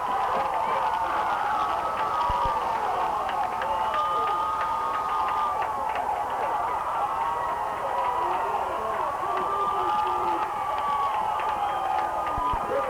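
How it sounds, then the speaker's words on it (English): Football fans in the stands at a college game cheer and yell continuously, a dense roaring crowd with shouts rising and falling, steady and loud throughout. "These fans are on their feet and cheering, yelling"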